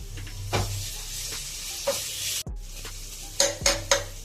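Onions with ginger-garlic paste frying lightly in ghee in a pan for veg khichdi, with a soft steady sizzle broken by several sharp stirring scrapes and clinks of a utensil against the pan.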